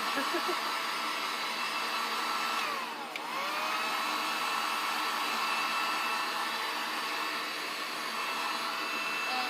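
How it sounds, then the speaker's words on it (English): A Harbor Freight heat gun drying paint on a prop mask gives a steady, loud blowing whir that holds at one level, with one brief dip midway, and no speech over it. "every prop builder, mass maker, whatever should have the Harbor Freight special heat gun"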